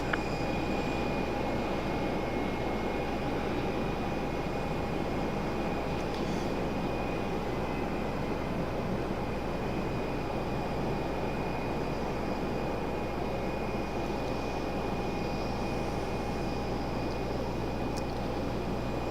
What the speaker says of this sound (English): got a Southwest taxi now